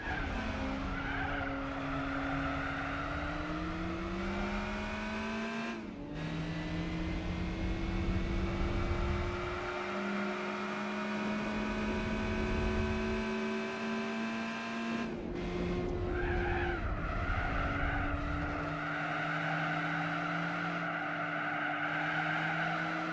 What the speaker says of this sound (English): And Samir is braking the car